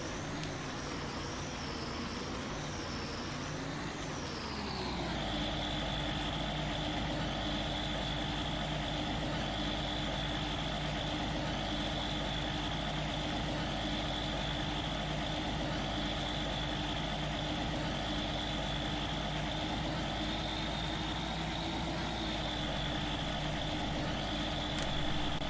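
Tractor engines in the farming game Farming Simulator 19, a steady droning idle with a low rumble and a faint whine, shifting in pitch briefly at the start before settling into an even, continuous hum.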